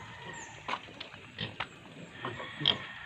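Native pigs kept in a backyard pen give several short grunts and snorts at irregular intervals, moderately close, over a quiet outdoor background with no talking.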